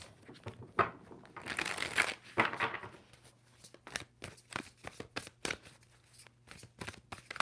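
Tarot cards being shuffled close by, a flurry of riffling followed by a series of sharp separate snaps and taps, fairly quiet.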